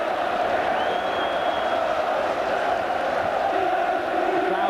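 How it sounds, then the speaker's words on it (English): Football stadium crowd giving a sustained farewell cheer to Kevin Keegan, a dense, steady roar of many voices heard from a distance with no break. "The crowd have forgotten the game now. They're just providing a fitting farewell to Kevin Keegan."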